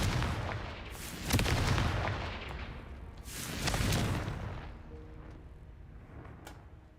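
Confringo fire spell explosions in the Hogwarts Legacy video game, two loud booming blasts a couple of seconds apart, each with a rumbling tail fading into low ambient noise.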